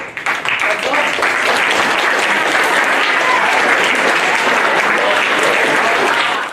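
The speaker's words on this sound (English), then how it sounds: "Let's give one more round of applause to these intelligent adults." An audience at an Urban CCA summer camp graduation breaks into sustained, loud applause, dense clapping that fills the whole stretch evenly and stays strong to the end without speech on top.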